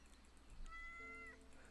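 A single short cat meow from the video game Yes, Your Grace, clear and fairly close against a quiet background.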